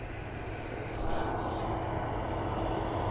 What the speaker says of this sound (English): Jumbo still taxiing down very slowly